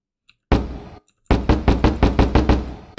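Knocking on a door in the game Deadbolt: a short loud pair of knocks, a brief pause, then a quick rhythmic run of about eight sharp, close knocks.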